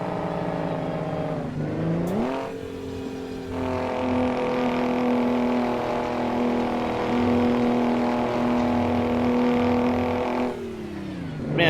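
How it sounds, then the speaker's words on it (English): A heavy truck in American Truck Simulator drops in pitch, then settles into a sustained, droning engine-brake roar that holds steady for several seconds before easing off near the end. "Just catch some of that Jake brake."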